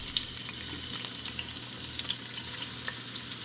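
Onions hitting hot oil in a pan, giving a steady, continuous sizzle and crackle with scattered sharp pops, close and moderately loud with no voices.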